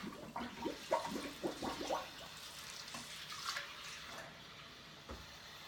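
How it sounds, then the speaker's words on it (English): Water dumped out of a container after rinsing handmade yarn, followed by fresh tap water running, a splashy burst of pouring early on that settles into a steady, moderate stream. "I'm gonna dump this out and get some fresh water"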